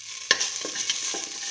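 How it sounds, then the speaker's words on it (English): Shallots and garlic fry in a pan for a mint okra and split mung bean rice dish, a close, steady sizzling hiss broken by a few spoon scrapes and stirring knocks, with no talk. "let the shallots fry for some time"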